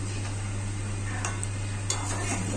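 Raw mango pieces simmer in melted sugar syrup with a little salt for a sweet pickle, giving a steady, even bubbling hiss with a low hum underneath and a couple of faint soft knocks, with no talking.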